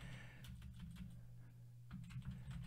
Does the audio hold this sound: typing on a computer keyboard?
yes